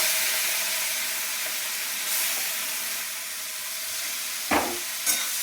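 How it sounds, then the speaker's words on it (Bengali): Prawns frying in hot oil in a pan, a continuous airy hiss and sizzle with a couple of sharp crackling pops toward the end. "চিংড়ি মাছগুলো ভেজে নেবো ভালো করে।"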